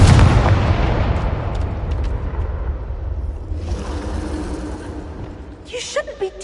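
A Confringo blasting spell in Hogwarts Legacy erupts as a loud, booming explosion that rumbles and decays over several seconds, followed by smaller crackling bursts.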